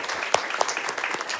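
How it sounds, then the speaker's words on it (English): Audience at the RPG Limit Break 2025 speedrun marathon finale applauds the tech crew with steady, moderate clapping and a couple of sharper individual claps and faint voices. "applause to our tech crew for"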